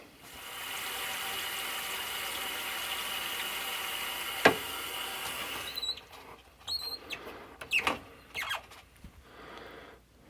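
Water poured over a freshly worked, still-warm steel gouge in a luthier's shop, giving a steady close hiss and trickle for several seconds, then broken splashes and drips as the flow stops.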